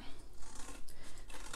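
Scissors snip through paper, cutting corner to corner while making a small paper clamshell box, with a series of close, crisp rasping cuts across a short stretch and no voice.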